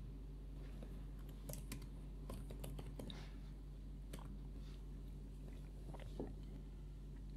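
Rapid, uneven clicking of keys on a computer keyboard, close and fairly quiet, with brief pauses between bursts of typing.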